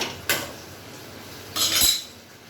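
A metal lid set down on a cooking pot of potato and eggplant, two sharp clanks about a second apart, close and clear against a quiet room.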